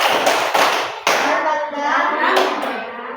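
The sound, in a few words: hands clapping a rhythm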